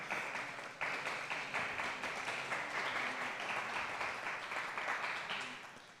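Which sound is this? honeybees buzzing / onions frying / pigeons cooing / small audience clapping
small audience clapping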